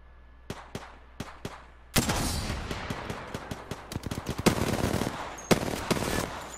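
Video game gunshots in a Brawlhalla 2v1 match: a few sharp isolated shots, then a loud dense barrage of rapid fire with scattered louder cracks, no talking.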